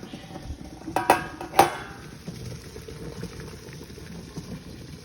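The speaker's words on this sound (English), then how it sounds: "We've got this water up to a boil." Water boils in a pot with a low steady bubbling and churning, close by, while a couple of sharp metallic clinks of pot or utensils ring out early on.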